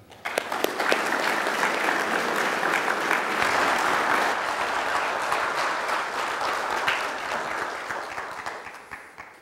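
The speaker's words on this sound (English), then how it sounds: "So Ebenezer Church, if you would join me in applauding John Burris." A church congregation breaks into loud, sustained applause for a guest preacher, many hands clapping densely for several seconds before gradually thinning out and fading.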